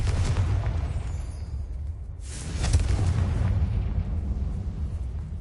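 Confringo explosive spell cast in the Hogwarts Legacy video game: a sustained rumbling blast with a brief lull, then a second loud burst of roaring energy that fades into a lingering low roar.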